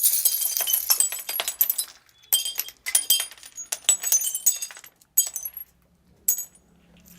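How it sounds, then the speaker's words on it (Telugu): Foley glass-breaking effect made by dropping glass pieces into a glass over a sink: bright, close bursts of shattering and tinkling shards, broken by short silences and ending in a few scattered clinks. "సో అట్లా మీరు కింద గ్లాస్లో వేసి బ్రేక్ అయ్యి కింద పడేవి అన్నీ వస్తాయి"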